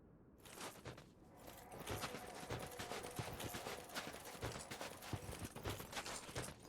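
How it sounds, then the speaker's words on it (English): Horse hooves clip-clopping in the Dark Souls 2 video game, a rapid, continuous clatter of hoofbeats close by, loud and rhythmic after a brief quiet start. "Oh no! The horse followed us!"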